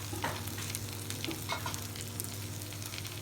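Onion sizzles and fries in a pan with a steady crackling hiss, close up, interrupted by a few scraping stirs, with no talking.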